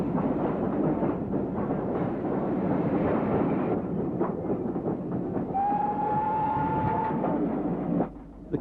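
A train hauling two old Castle class steam locomotives to the scrapyard rumbles steadily along the track, with a long whistle or horn tone sounding midway before the noise briefly drops away.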